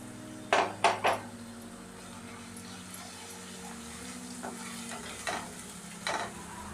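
Fish curry masala with turmeric sizzling in hot oil, stirred with a few sharp scrapes of a utensil against the pan, then a steady low frying hiss with occasional clinks.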